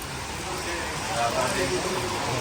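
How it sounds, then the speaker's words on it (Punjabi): Steady broadband hiss of rain falling at the Vaisakhi festival in Sri Anandpur Sahib, continuous and fairly loud throughout, with no breaks. "ਨਾਲ ਹੀ ਮੀਂਹ ਨਹੀਂ ਹਟਦਾ ਹੈਗਾ"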